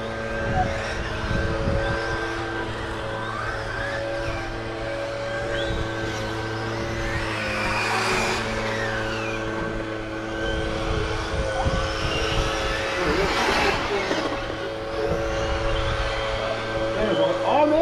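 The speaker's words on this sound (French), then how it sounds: "Seb, la BMT roule bien." Vintage BMT 011 radio-controlled nitro car on foam tires running at a track, its small engine giving a continuous buzzing drone that rises and falls as it passes, with people talking in the background.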